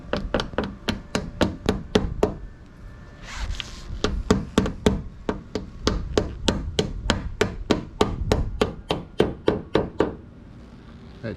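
A small end piece is tapped into a roof track on a Sprinter van conversion, giving about thirty close, sharp taps in a steady, fairly quick rhythm. The taps keep going almost without a break.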